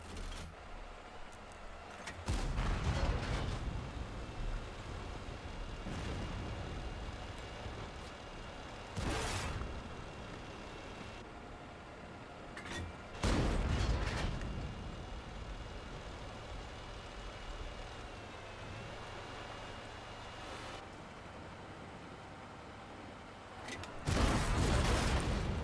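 Artillery fire in the tank game World of Tanks booms several times at irregular intervals over a steady engine-like rumble, each blast loud, broad and abrupt.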